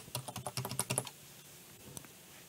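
A computer keyboard is typed on in a quick burst of about a dozen crisp, close key clicks during the first second, followed by quiet with a couple of stray taps.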